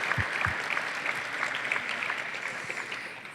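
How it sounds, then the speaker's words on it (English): A small audience at a basketball player's interview event claps for a departing guest, a short burst of brisk applause at moderate level. "give Jeremy a round of applause"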